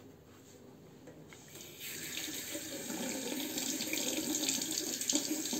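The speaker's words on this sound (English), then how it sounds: "quite easy to rinse because the blade gap is a little bit higher." A water tap runs steadily while a safety razor is rinsed under it. The flow starts quietly, grows louder and fuller after a couple of seconds, then splashes continuously close by.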